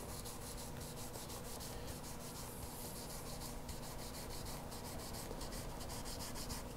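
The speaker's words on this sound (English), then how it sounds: "So this is cleaning that crud that's built up right around the edge, right as it interfaces with the fretboard." A small pad rubs along the edge of a guitar fretboard, scrubbing built-up grime where the frets meet the wood, a steady close scratchy rubbing that continues without pause and without talk.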